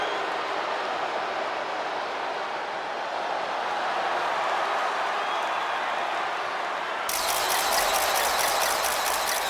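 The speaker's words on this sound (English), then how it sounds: "Tiffany Stratton getting a warm welcome from this home crowd." Home crowd in the WWE 2K25 wrestling video game gives a steady, loud arena roar and cheer, with a sudden brighter burst of noise near the end.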